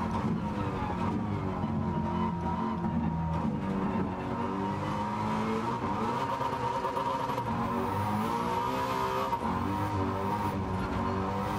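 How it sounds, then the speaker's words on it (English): A single-cam car revving to about 7,500 RPM in the racing game Gran Turismo 7 holds a steady, harmonic-rich engine drone throughout, loud and continuous with no talking. "This car sounds amazing."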